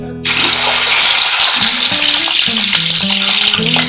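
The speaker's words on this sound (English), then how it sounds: "I'm going to go ahead and fry my shrimp, which we've already seasoned with some salt and some turmeric" Seasoned shrimp, coated in salt and turmeric, hit hot oil with a sudden loud hiss that settles into steady, close sizzling and crackling, with faint stirring and clinks of a utensil against the pan throughout.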